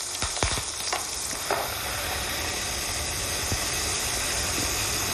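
Lamb trimmings with bay leaves brown in a hot pan, a steady close sizzle and hiss with a few clinks and stirring knocks near the start; no one speaks.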